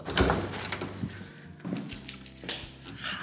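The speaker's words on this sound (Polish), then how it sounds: "Otworzyłam drzwi." A front door being unlocked and opened during a house move, with keys jangling, a latch clicking and the door swinging, close and moderately loud.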